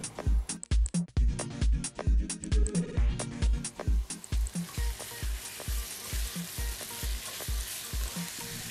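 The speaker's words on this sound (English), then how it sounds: "Once the beef starts frying" Beef sizzles steadily in a hot oiled pan, with regular tapping and scraping from stirring throughout.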